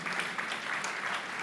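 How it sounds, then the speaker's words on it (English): Steady applause from an audience at a youth leadership debate grand finale in Nigeria, dense and continuous clapping filling the room at an even level throughout. "I think you should clap for the administration"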